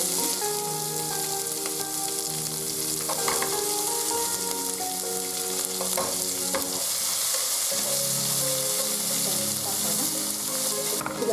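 Steady, dense sizzling of onions frying in hot oil, close and continuous, with occasional stirring scrapes.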